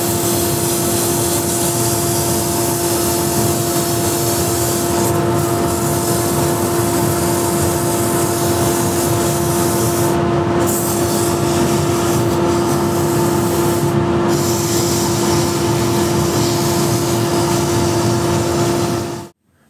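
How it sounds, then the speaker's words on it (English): An electric sander with 180-grit paper works over an Osage orange wood carver's mallet, giving a loud, steady whirring hum with a constant tone that runs unbroken for the whole stretch and then cuts off at the end. "So I sanded this with 180 grit"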